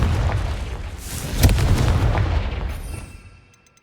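Spell explosion from Hogwarts Legacy, a loud booming blast with a sharp crack near the middle, rolling and fading out over a few seconds with no talking.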